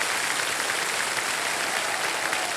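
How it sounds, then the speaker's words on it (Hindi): Dense, steady applause from a TV quiz show studio audience, an even wash of clapping throughout with no breaks. "सारे जोरदार तालियां बज जाए।"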